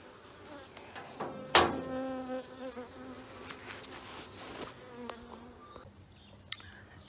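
Honeybees buzz close by around a hive in brief swells, with one sharp loud burst early on, then scattered fainter buzzing and small taps fading toward the end.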